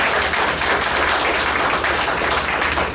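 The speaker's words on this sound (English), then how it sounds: "If you give her a round of applause." Steady audience applause for a freshman choir student at a school district event, a dense, continuous wash of clapping filling the room without a break.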